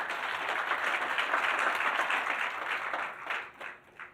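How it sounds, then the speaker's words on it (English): A round of audience applause at a business report event, an even wash of many hands clapping at moderate volume that tapers off into scattered claps at the end. "So I think maybe even another round of applause for that."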